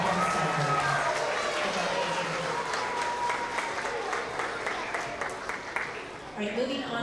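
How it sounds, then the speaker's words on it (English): Round of applause for second grade creative problem solvers at a K–2 school award assembly, a crowd clapping steadily and fairly loud throughout, with voices mixed in and a voice rising near the end. "another round of applause for all of our second grade creative problem solvers"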